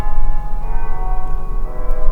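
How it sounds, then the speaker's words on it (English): Church bells ring in downtown Honea Path, South Carolina at night, a loud sustained metallic tone with layered overtones that hangs continuously under a low outdoor rumble. "Kind of some creep vibes already with the church bells going."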